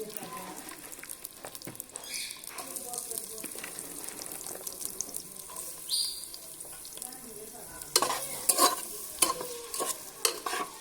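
Onions fry in hot oil in a pan for chicken khichuri, with a soft, steady sizzle broken by the clatter and scrape of stirring, which grows louder and busier toward the end.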